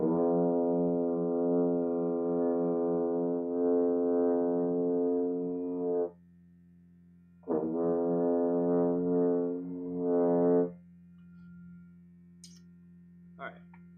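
French horn sustaining a long, steady tone on F, held for several seconds, then a pause and a second long tone with a slight wobble, played close and fairly loud with a low background hum underneath.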